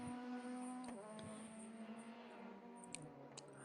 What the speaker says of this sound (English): Here, the engine screaming on this in-lap.